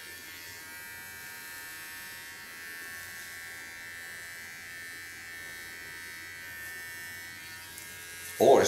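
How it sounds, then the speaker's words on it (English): Small electric hair clipper trimming a clean neckline contour on a woman's hair, a faint steady buzzing hum that runs continuously, ending in a brief louder clatter. "With a small clipper I clean the contour line"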